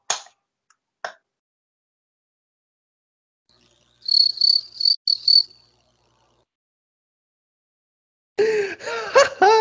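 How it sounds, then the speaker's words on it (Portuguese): A cricket chirping sound effect plays in two short, high, pulsing bursts of shrill chirps midway, set between quiet stretches, with laughter and a brief vocal outburst following near the end. "Quem colocou esse barulhinho de grilo aí?"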